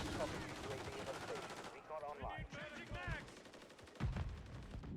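Gunfire rages in a Call of Duty Modern Warfare III multiplayer match, with dense rapid shots, and a heavy burst near the end, under game chatter and effects.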